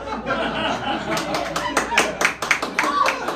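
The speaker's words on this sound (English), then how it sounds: "I'm having the applause recorded so I can play it at night in my room." Audience clapping at a live music performance of personal songs, a brisk scatter of hand claps with a few chuckles mixed in, fairly close and steady through the moment.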